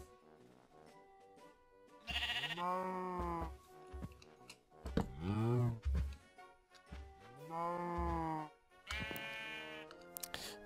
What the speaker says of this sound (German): Das blöde Schaf.